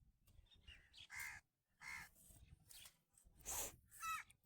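A crow caws outdoors several times in loud, separate bursts, with short quiet gaps in between and faint background noise.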